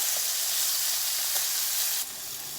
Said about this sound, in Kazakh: Жақсылап тұрып тауық пен баклажанды қуырып аламыз